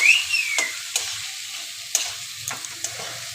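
A spice masala for a fish curry frying in a pan, soft sizzling with several sharp scrapes and stirring knocks spaced through it, close and fairly quiet.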